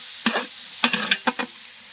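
Garlic paste sizzling in a hot pan while being stirred, with several separate scraping strokes over a steady frying hiss, close and fairly loud, no talking.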